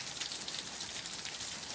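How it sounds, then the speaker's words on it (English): Steady rain falls on a lawn outdoors, a continuous soft hiss of drops without pause, fairly close and even in level, with no voices. "it's raining, as you can see, and it hadn't rained since last Tuesday."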